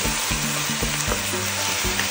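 Meat stir-frying in hot oil in a wok, a steady loud sizzle with a low rumble of stirring and occasional scrapes, close and continuous with no talk.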